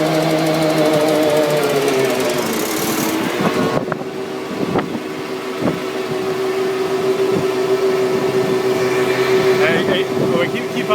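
A pump runs on a 2004 1,000-gallon AVGAS fuel truck, unit 7210, with a continuous droning whine and motor hum close by, amid wind noise and occasional clanks.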